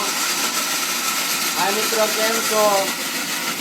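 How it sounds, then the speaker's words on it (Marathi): A kitchen mixer grinder whirs steadily throughout, grinding potatoes, with a voice briefly audible over the motor noise midway. "आपले आम्ही मिक्सर चालू करी घेतली"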